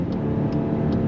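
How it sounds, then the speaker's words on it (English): A 2024 VW Atlas Cross Sport with an 8-speed automatic accelerates under throttle, heard as a steady, close engine drone with road roar, continuous and fairly loud, with no voices. "we're gonna see the acceleration on throttle"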